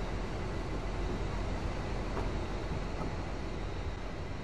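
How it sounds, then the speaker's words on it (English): Steady broadband rumble of a train pulling out of a station in the Train Simulator 2015 video game, Glasgow Airport Rail Link route, continuous and even in level with no talk. "Another train going out of the station."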